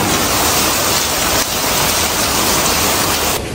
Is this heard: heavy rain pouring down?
yes